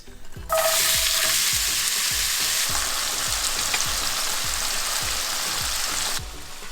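Frozen okra hits hot oil in a pan for an okra and potato curry, with a loud, steady sizzle bursting in at once and holding before dropping away near the end. A low, regular thumping runs underneath.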